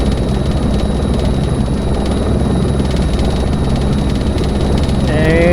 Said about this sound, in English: And I'm hand flying the helicopter.